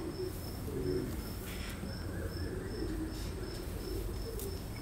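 Soft, low pigeon coos repeat at intervals at a railway station corner, against a steady background hum and faint high chirping of insects.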